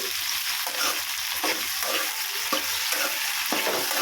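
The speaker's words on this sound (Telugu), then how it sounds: "దోరగా ఉల్లిగడ్డ అయితే వేగింది బెండకాయలే" Onions and okra fry in a pan with a constant loud sizzle, while a utensil stirs and scrapes through them at intervals, close and with no talk.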